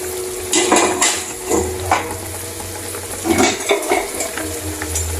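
Food frying in a pan as a spoon stirs it, repeated scraping and clinking strokes over a steady sizzle, close and fairly loud.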